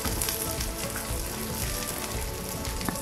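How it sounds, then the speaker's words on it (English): Steady, dense sizzling of vegetables cooking on a grill in a wood-fired oven over high heat, a continuous crackle and hiss throughout with no voices. "I can hear those have got a lovely sizzle on already"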